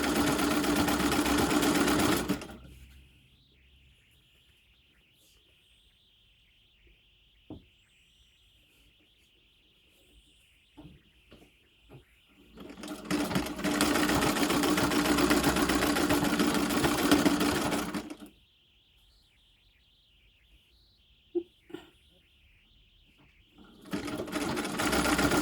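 A treadle sewing machine stitches in three loud bursts of steady mechanical whirring, each separated by long near-silent pauses that carry a faint high hum and a few light clicks.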